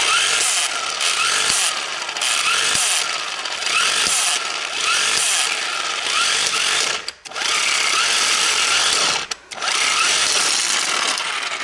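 An AEG electric impact wrench unscrewing car wheel nuts, a loud, close, continuous rattling hammer broken by a few short pauses and restarts.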